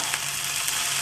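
Dheki fern greens dropped into a hot pan give off a loud, steady sizzle that fills the whole brief moment.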